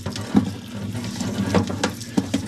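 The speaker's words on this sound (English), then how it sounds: "got these chains in the parts washer here" Liquid in a parts washer runs and splashes steadily over ATV drive chains left to soak, a continuous close trickling stream with small gurgles and drips and no talking.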